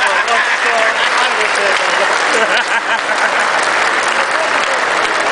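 Dense, steady applause from a large concert crowd at the Basin Reserve in Wellington, at a 2008 show, filling the whole stretch loud and close with constant overlapping claps.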